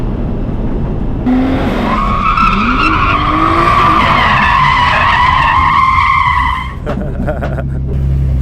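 A car skids with a long, loud tire squeal that wavers in pitch for several seconds over a steady engine roar, then cuts off abruptly.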